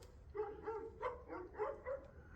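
Dogs barking at donkeys outdoors, heard faintly from inside a workshop during woodworking: a run of repeated bark-like yelps at a steady uneven rhythm, distant and muffled.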